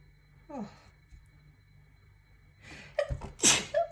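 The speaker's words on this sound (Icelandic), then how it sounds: "Og ég þarf að hnerra eftir smástund." One person sneezes after a soft intake of breath and a brief pause, building to a loud, close, explosive burst at the end.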